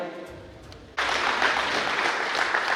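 After a brief quieter moment, a crowd at a religious gathering's award ceremony breaks into a sudden wash of applause that holds steady and moderately loud until the end.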